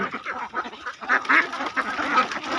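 Egg-laying ducks quacking in a flock, a busy overlapping series of nasal quacks and honks at moderate distance, continuing throughout without pause.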